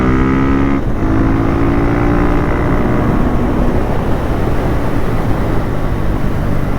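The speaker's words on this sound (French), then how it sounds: "Oh ça m'avait manqué cette sensation là, le bruit du 450 du Supermoto." 450 supermoto motorcycle engine heard from an onboard camera while riding, a steady loud drone with harmonic tones shifting early on, continuous throughout with no talk.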